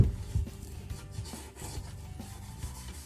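Steady abrasive rubbing of sandpaper on wood, continuous back-and-forth rasping close by with no talking.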